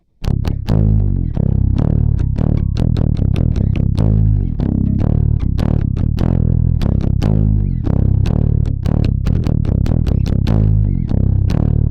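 Close, loud distorted bass guitar plays a full verse riff for about twelve seconds: steady driving eighth-note chugs with gritty attacks, shifting notes and occasional quick fills, without pauses or voices.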